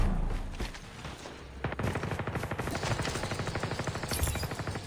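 Automatic gunfire in Call of Duty Mobile: an opening shot followed by long, rapid, evenly spaced bursts of loud game shots that run on to the end.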